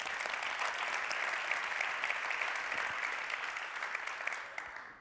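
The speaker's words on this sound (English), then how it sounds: "give them an applause" A conference audience applauds in a large hall, a dense, even wash of clapping that holds steady and then tapers off at the end.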